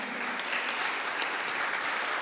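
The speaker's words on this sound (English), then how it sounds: "A round of applause and welcome him." Audience applause at a polytechnic college annual day celebration, welcoming a vice principal on stage: steady, dense clapping from a large crowd filling the whole moment without a break.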